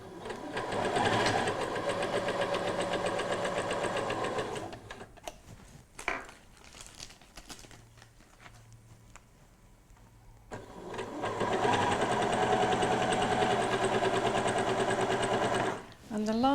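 A sewing machine stitches down the seam of an invisible zip, running fast and steady at close range, stopping for a quieter stretch in the middle with a few handling clicks, then starting again at full pace.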